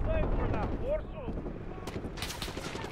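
Gunfire from the Call of Duty Modern Warfare campaign mission Embedded: scattered shots and bursts with explosive cracks, strongest in the final second, over a steady rumble of game noise while a player talks early on.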